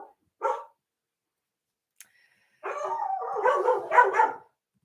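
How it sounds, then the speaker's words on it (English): Dogs barking in a home: a short bark, a brief pause, then a longer run of overlapping yips and barks that grows louder toward the end, fairly close and with no talking. "The other doggies are allowed to bark."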